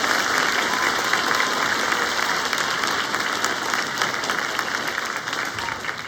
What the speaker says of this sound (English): Would you please give them a round of applause?